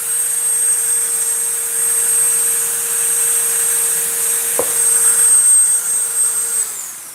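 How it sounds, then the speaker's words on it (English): A Dremel 3000 rotary tool carving wood runs with a steady, close high-pitched whine and hiss, one sharp tap cutting through midway, before the motor spins down and the pitch drops at the end. "so overall the Dremel 3000 ran really, really well"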